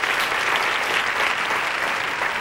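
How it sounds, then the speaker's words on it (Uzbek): An audience at a comedy show claps for a comedy performer, a loud, dense burst of applause that stays steady and close for a couple of seconds. "Qarsak chalib qo'yinglar ajoyib ijodkorga."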